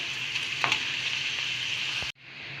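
Pappadam frying in hot oil gives a steady, close, hissing sizzle with a few brief pops, cutting off abruptly near the end before a quieter hiss returns.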